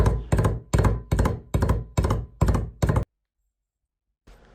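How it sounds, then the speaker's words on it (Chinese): Ginger smashed and chopped with a kitchen knife on a cutting board: eight heavy, evenly spaced thuds over three seconds, close and loud, then a pause and a faint return of sound. "生姜用刀拍碎剁碎"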